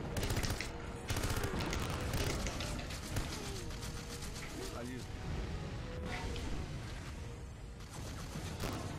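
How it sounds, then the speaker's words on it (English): Gameplay of 007: Everything or Nothing on the Wii: loud, dense bursts of rapid gunfire and booming explosions rattle continuously throughout. Talking is mixed in with the game audio. "okay, yeah, explosions"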